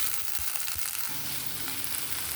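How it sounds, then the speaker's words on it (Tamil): Turkeyberries and shallots sautéing in a pan on low heat, a steady close sizzle and hiss with a few light scrapes, no talking. "ஒரு 5 நிமிஷம் சிம்மில் வச்சு வதக்கணுங்க"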